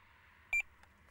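A Tx-i Plus fishing bite alarm gives two quick, bright bleeps back to back, then a faint trailing blip over a quiet background hum.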